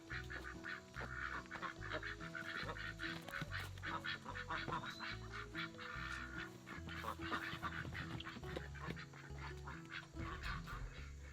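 Farm ducks quack in a loose, overlapping flock on a homestead at bedtime, steady and fairly close, with harmonic calls repeating throughout and no talking.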